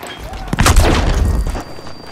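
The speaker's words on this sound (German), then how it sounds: "Deckung! Granate kommt!" Grenade explosion in the Battlefield V video game: one loud, sudden boom with a rumbling tail lasting about a second, set against ongoing battle noise.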